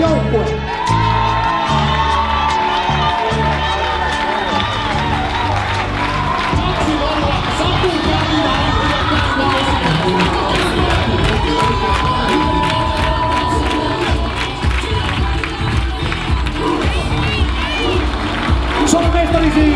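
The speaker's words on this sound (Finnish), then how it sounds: "saapua festarille yleisön raivokkaasti hurratessa" Audience cheering wildly for the men's Finnish baseball champion team on a season-closing cruise: dense, loud crowd roar with whoops, shouts and clapping sustained throughout, with voices mixed in.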